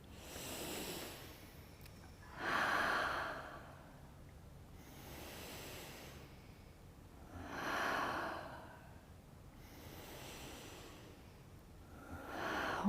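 Slow, deep breaths during an energy exercise, with long, airy inhales and exhales rising and falling in a steady cycle of about five seconds, close and alone.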